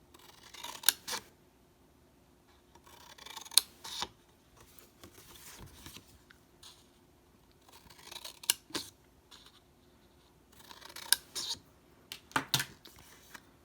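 Scissors snip cardstock for a wedding exploding box, making small triangular corner cuts in separate clusters of crisp, close snips with quiet paper shuffling between them.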